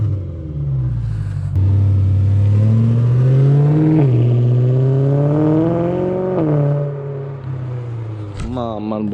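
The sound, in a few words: BMW M3 revving with twin exhaust pipes replacing silencer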